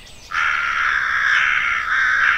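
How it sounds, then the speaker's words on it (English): A crow-like bird gives a single long, harsh caw, loud and near, and holds it with a brief dip before it carries on. "Those are the calling birds."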